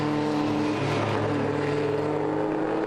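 Classic pre-1965 saloon race cars, including a Hillman Imp and a Mini, pull away from the start of a handicap race at Manfeild, a steady loud engine drone with layered revving tones throughout.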